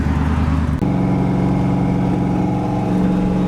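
A car with an LS V8 engine drones steadily while cruising on the highway, heard from inside the cabin as a loud, continuous hum and road roar.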